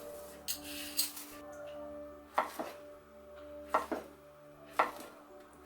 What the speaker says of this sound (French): je vais enlever toute la peau et je vais faire des lamelles très fines